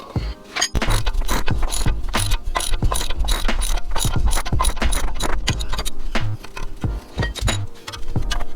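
A ratchet wrench with a T40 Torx bit clicks rapidly in repeated bursts while working on BMW suspension during a spring-lowering job, close and loud with metallic clatter.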